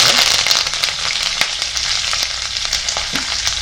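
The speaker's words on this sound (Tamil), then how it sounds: "இப்போ இந்த எண்ணெய் சூடாகிட்டுது. அதில் கொஞ்சம் கடுகு சேர்த்துக்கொள்ளுங்க. கடுகு வடிக்குது." Mustard seeds crackle and pop in hot oil in a pan for a Tamil paneer gravy, sharp snaps scattered over a steady close sizzle throughout.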